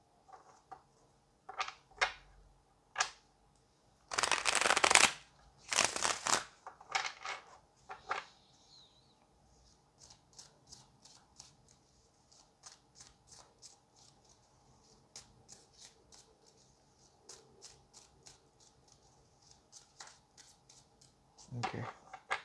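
Tarot cards are shuffled and drawn from the deck in loud bursts of riffling and flicking, followed by a long run of sparse light card snaps and taps, close by and with no speech.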